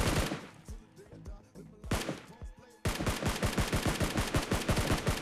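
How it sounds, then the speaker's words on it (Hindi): Video-game gunfire from BGMI: sparse single shots and short bursts give way to a sustained, loud rapid-fire volley near the end, with no talking. "सिटी के साइड से भी यहाँ पे फायरिंग आ रहा है"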